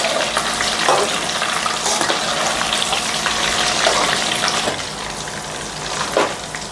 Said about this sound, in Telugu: మంచిగా సిమ్లో కొంచెం ఉడకాలి ముక్క అన్నది, మంచిగా ఉడికితేనే టేస్ట్ మంచిగా వస్తుంది